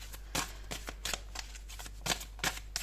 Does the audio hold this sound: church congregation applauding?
no